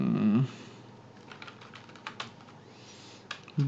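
Search words tapped out on a computer keyboard, a quick run of soft close clicks in an irregular burst, quiet and without speech.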